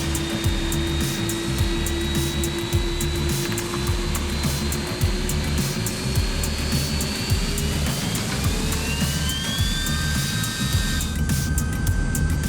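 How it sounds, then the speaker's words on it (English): A single Airbus A330 jet engine runs up toward full thrust, heard as a loud, constant, close roar with rising whining tones that climb and shift as power builds. "the engineers feel the raw power of just one A330 jet engine, shaking not just the cockpit, but the entire 60-metre long aircraft"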